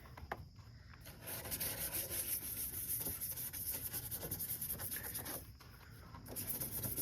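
Steady abrasive rubbing as paint is sanded off a dented Hyundai Elantra body panel by hand, continuous scratchy strokes close up with a brief pause near the end, no voices.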